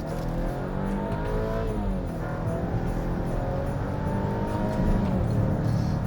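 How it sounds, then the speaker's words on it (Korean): A 300-horsepower Volvo mild-hybrid mid-size SUV engine revs high under acceleration, a steady rising and falling drone with layered harmonics, heard from the cabin at moderate loudness with no talking. "엔진 회전수를 이렇게 높게 가져가게 되면 내가 생각했던 그 볼보의 이미지와는 다른 사운드를 들려줍니다."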